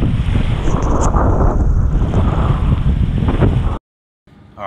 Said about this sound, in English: this is way too windy